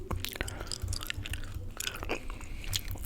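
Close, wet ASMR gum chewing sounds with soft smacks and clicks repeating steadily, no voices.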